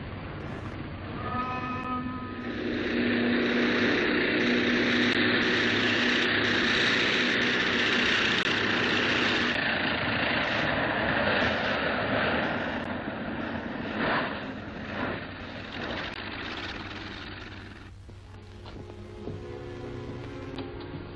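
Engines of a clipper flying boat from a 1937 film drone with a steady, dense roar that swells early and holds, then fades toward the end, heard without talk.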